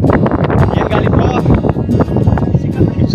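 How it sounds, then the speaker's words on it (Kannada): Heavy wind buffets the microphone on a hilltop during a trek at a stone fort, a steady roaring rush with gusty swells, while someone talks over it close by. "ಇವಾಗ ಹೆವಿ ಗಾಳಿ, ನಾನು ಮಾತಾಡ್ತಿರೋದು ನಿಮ್ಗೆ ಕೇಳಿಸ್ತೈತೆ ಗಾಳಿಗೆ"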